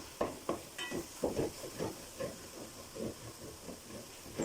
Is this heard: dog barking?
no